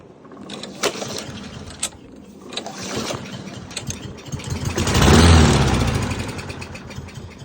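A Lawn-Boy AWD push lawn mower engine cranking with a few sharp pulls, then briefly catching and swelling into a loud close rumble before fading away as it dies.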